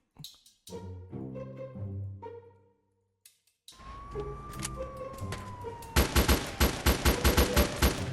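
Police open fire in the Grand Criminal Online mobile game: a rapid burst of loud, sharp gunshots fills the last two seconds, after a stretch of game music and a rising siren-like whine.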